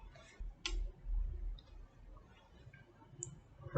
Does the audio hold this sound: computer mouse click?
yes